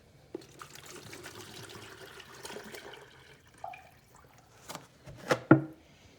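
Water being dumped out of a jug into a sink: a steady splashing pour that thins to trickles, then a few sharper gurgling splashes near the end, no talking.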